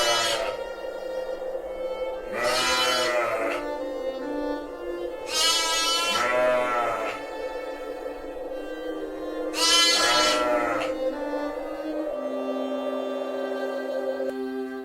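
Sheep on a wide open grassland farm in a cold, windy frontier region of Korea bleat three times, each call a long wavering cry spaced a few seconds apart over a faint steady background hum.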